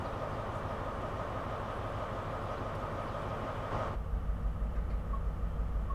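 A train rolls past in Train Sim World 4 on the London to Faversham high-speed line: a steady, loud rumble of wheels and engine that shifts to a deeper, heavier drone partway through.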